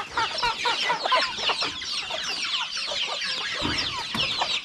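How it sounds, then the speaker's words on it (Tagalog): Chickens cluck and chatter busily at feeding time on a Filipino backyard farm, a dense, continuous flock of overlapping calls close by with no voices. "Ngayon po, magpapakain tayo sa ating mga manok."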